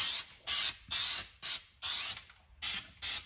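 Fluid Film rust-proofing sprayed onto a car's undercoating in a string of short hissing aerosol bursts, about eight in quick succession, close and loud with brief gaps.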